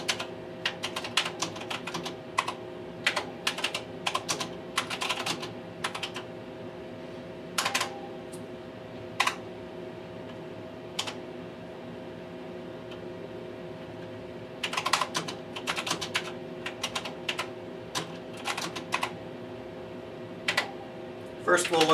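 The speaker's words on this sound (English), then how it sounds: "Type in a little program." Someone types a program on a Tektronix 4051 computer keyboard, with irregular clusters of crisp, close keystrokes separated by pauses over a steady low hum.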